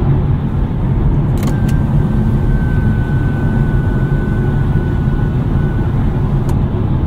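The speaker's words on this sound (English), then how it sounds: "Road noise, NVH, pretty decent in this i4." Steady low road and tire roar fills the cabin of a 2023 BMW i4 eDrive40 electric sedan cruising at about 70 mph on Michelin Pilot Sport 4 tires, a constant hum with a faint high whine and no speech.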